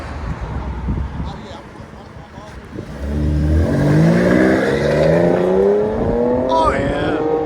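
A 2022 Dodge Durango GT with a 3.6L V6 and its rear resonators deleted revs up, the exhaust rising in a smooth sweep to a sustained loud drone, with voices in the background.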